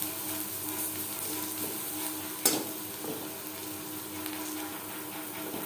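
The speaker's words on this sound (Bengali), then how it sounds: "লালচে করে পেঁয়াজ ভাজা হয়ে গেছে" Onions fry to reddish-brown in hot oil with slit green chillies, a constant crackling hiss with one sharp utensil clink partway through. No voices.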